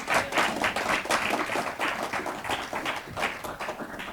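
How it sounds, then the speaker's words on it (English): An audience at a talk on genetically modified foods gives the presenter a full round of applause, loud, dense and continuous from start to finish. "let's give her one more round of applause"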